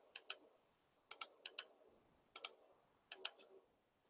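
A computer mouse gives crisp, faint clicks in quick pairs and triplets, four short bursts with pauses between them, in a quiet room with no talking.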